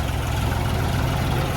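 A tractor engine runs close by, a loud, steady low-pitched drone with a regular pulsing throb and no voices over it.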